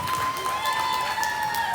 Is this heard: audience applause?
yes